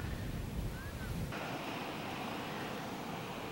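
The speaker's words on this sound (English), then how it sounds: "the sea is roaring in here against the rocks" Atlantic Ocean surf roaring against rocks on the Moroccan coast, a dense continuous wash of breaking waves with heavy wind buffeting the microphone, loud and unbroken throughout.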